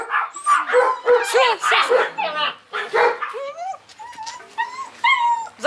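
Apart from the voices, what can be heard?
dogs barking, spitz and German shepherd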